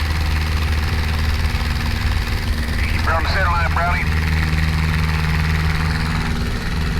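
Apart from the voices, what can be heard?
Luscombe light aircraft propeller engine during takeoff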